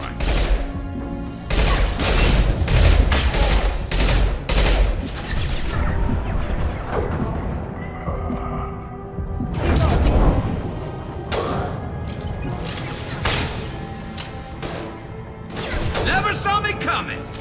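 Rifle gunfire in the video game Mass Effect 2, loud bursts of shots with booming impacts and crashes spread through the stretch, mixed with game effects and brief voices.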